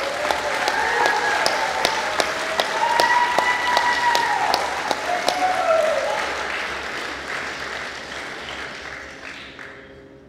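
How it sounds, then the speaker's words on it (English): A crowd at a youth academy graduation ceremony in Hilo applauds steadily, many hands clapping together, then the applause gradually fades toward the end. "Let's give them a round of applause."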